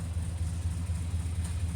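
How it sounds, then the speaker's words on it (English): A 1971 Chevy K20 4x4 with a Vortec 350 V8 and headers idles in a steady, low, throbbing rumble, fairly quiet and even, with no talking. "Just idles really good. We'll idle like this all day long."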